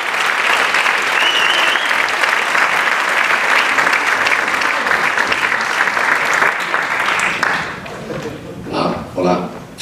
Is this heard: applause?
yes